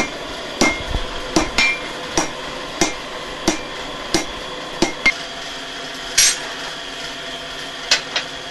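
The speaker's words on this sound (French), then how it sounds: "vous allez suivre la fabrication d'un clou en fer forgé" A blacksmith hammers iron heated to about 1200 degrees to forge a nail, with sharp metallic strikes ringing out at an uneven, steady working pace.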